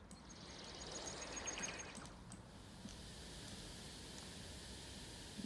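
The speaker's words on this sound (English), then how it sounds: "Like wind style, almost white noise." Wind-style ambient effect from a free VST plugin, a soft steady hiss close to white noise that swells slightly then holds, faint and without voices.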